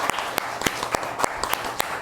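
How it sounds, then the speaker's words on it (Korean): A church congregation claps in thanks after a ukulele praise team performs during a Sunday worship service, a fairly quiet patter of hands with a few sharper individual claps standing out. "네 분께 감사의 박수를 다시 한번"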